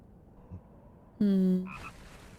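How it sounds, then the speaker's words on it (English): A frog croaks in Naruto Shippuden, one loud close croak with a ringing harmonic tone that tails off, followed by a brief softer call, with no talking over it. "Frog."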